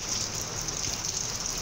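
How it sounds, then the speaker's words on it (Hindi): Heavy rain pours down steadily over a home garden, a dense, even hiss of drops striking plants and surfaces, close and continuous with no voices. "इस वक्त भी बहुत ज़ोरों की बारिश हो रही थी, देख सकते हैं आप माशाल्लाह से।"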